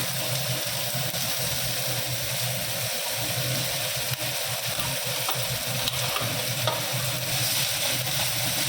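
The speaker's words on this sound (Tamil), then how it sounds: "நல்லா வதங்கிட்டு பாருங்கள் இப்போ நம்ம இஞ்சி பூண்டு போட்டுக்கலாம்" Ginger and garlic frying in a pan for chicken curry, a loud, dense, steady sizzle with a low rumble beneath and faint occasional stirring ticks, close up with no voices.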